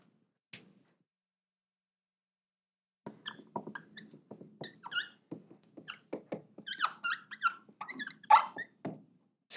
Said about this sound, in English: Squeaky marker.